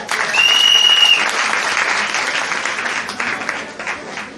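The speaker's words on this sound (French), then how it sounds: "Veuillez l'applaudir s'il vous plaît." A crowd at a donation ceremony applauds in a loud, continuous wash of clapping that slowly eases off, with a thin whistle-like tone heard briefly near the start.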